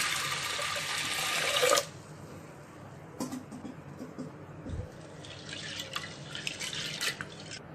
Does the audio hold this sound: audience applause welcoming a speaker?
no